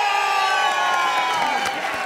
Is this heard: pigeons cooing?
no